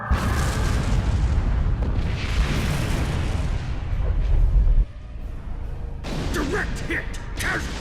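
Weapons fire strikes a starship in the Star Trek Online game on Xbox One, heavy booming blasts and crashing rumble for several seconds, then a sharp drop before further impact bursts, with voices speaking over it.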